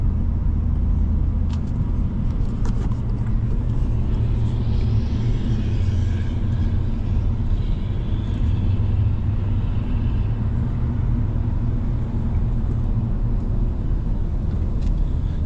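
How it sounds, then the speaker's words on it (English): Fire trucks rumble while moving into place for a funeral procession, a loud, steady, low engine drone that continues throughout with no talk. "Now I guess fire trucks are just going to get into place."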